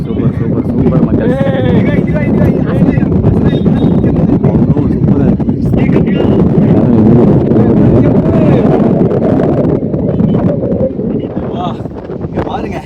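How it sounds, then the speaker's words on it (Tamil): Strong wind buffets the microphone outdoors with a constant loud rumbling roar, and someone talks over it throughout. "இங்க பாருங்களேன் பயங்கரமா காத்து அடிக்கிறீங்க"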